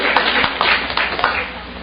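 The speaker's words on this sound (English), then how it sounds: "please round of applause for her" Audience clapping at a college student-athlete awards banquet, a short burst of scattered hand claps from a modest crowd, fairly close and uneven, fading after under two seconds.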